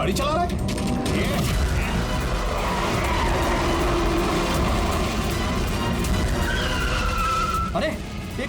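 A car tears along in a chase, its tires skidding and squealing under loud, constant engine roar and dramatic music, with voices speaking over the top.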